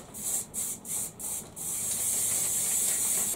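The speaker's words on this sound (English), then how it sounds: "So we're going to spray it in the woods." Blacksmith paint sprayed from an aerosol can outdoors in woods: five short, close hissing bursts in quick succession, then one long continuous spray.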